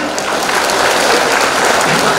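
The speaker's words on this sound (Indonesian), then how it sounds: "Mari kita beri aplaus tepuk tangan." A crowd at a gallery inauguration ceremony claps steadily throughout, a dense, even burst of applause with no pauses.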